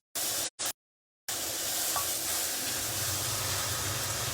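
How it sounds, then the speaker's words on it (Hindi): Masala roasts in a karahi for a Shinwari qeema karahi, giving a steady, close sizzle and hiss after a few short bursts of frying noise, with no talking. "ये मसाले की भुनाई छीके भी आएंगे लोगों को"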